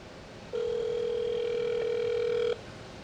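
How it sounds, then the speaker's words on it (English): A single steady electronic telephone ringback tone sounds for about two seconds, held close and clear against a quiet background. "I guess it has to ring a couple times"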